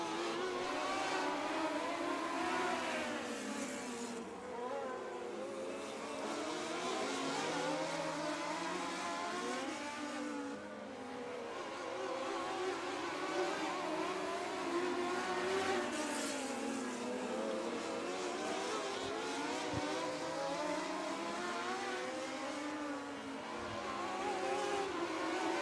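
Several race cars roar back up to speed together on the restart at Southern Illinois Raceway, their engines rising and falling in overlapping sweeps as they pass, loud and steady across the whole stretch with no voices.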